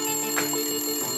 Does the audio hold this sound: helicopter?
no